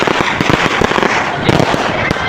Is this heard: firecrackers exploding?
yes